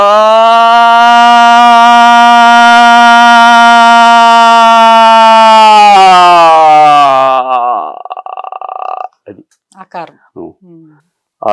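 A single voice imitates a sound, starting as a sustained buzzing auto rickshaw drone, holding a long steady tone, then bending and sliding in pitch like a siren before breaking off into short voiced fragments; loud and close.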